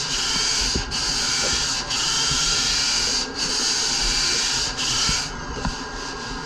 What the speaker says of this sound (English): Just use my sander.